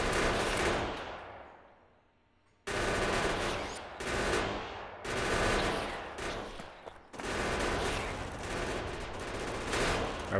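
Guns fire at biter nests in the game Factorio in loud, dense bursts of rapid automatic gunfire that break off briefly several times and then resume, with no talking.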